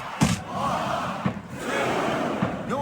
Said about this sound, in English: the crowd has come alive tonight with a chant directed at the superstars in the ring